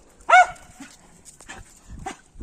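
A pet dog gives one sharp, loud bark near the microphone, followed by softer yips and whimpers in a quiet setting.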